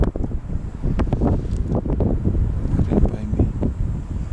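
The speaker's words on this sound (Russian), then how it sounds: "ветрено." Steady, loud wind buffeting the microphone outdoors near a motorized snow dog, with a broad roar and gusty rustling, continuous throughout.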